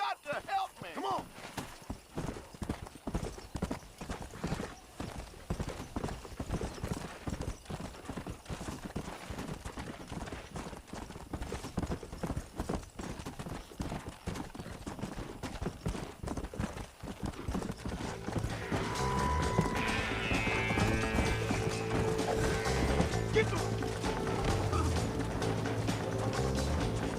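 Hooves clip-clop rapidly and continuously as a horse gallops in the video game Red Dead Redemption, close and steady, with the rhythm growing denser and louder toward the end.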